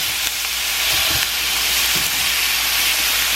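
Ground turkey meat sizzles loudly in a hot pan, a steady close hiss broken by a few dull scraping knocks as a spatula breaks it up.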